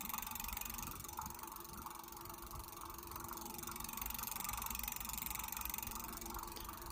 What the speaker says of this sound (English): if I twist it, the wheel starts to spin